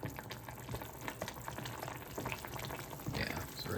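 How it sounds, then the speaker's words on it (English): Homemade pepper hot sauce bubbles and sizzles in a pot on a stovetop, a dense, continuous crackling boil that stays fairly quiet throughout, with no talking. "Once you're stirring and it's still kind of boiling or immediately returning to a boil"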